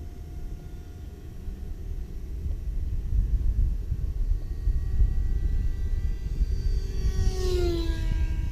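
A small 3D-printed Craycle Stick model airplane's electric motor whines at higher throttle during a maiden flight, a steady droning buzz with rising pitch near the end as it passes by, over outdoor rumble.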